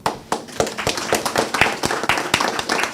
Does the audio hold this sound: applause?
yes